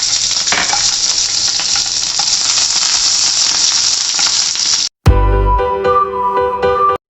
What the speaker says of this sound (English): I had added the capsicum and I had sauteed it for at least 10 to 20 seconds